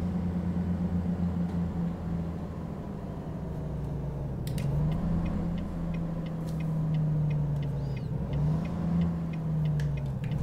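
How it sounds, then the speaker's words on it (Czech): A heavy truck engine in American Truck Simulator drones low and steady, with pitch swells and a couple of rising-and-falling surges as the engine brake works, plus faint ticking clicks near the end. "tady použijem motorovou brzdu"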